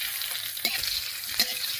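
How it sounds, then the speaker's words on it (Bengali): Slit green chillies hit hot oil already tempered with nigella seeds and dried red chilli, giving a steady frying sizzle with two sharper bursts as they drop in and are stirred, no voices. "দিয়ে দিচ্ছি কয়েকটা চেরা কাঁচা লঙ্কা"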